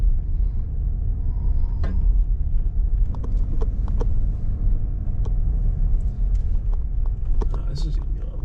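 A truck grinds slowly up a narrow, overgrown mountain track, its engine a low continuous rumble. Sharp clicks and scrapes from gravel and brush brushing the body cut in now and then.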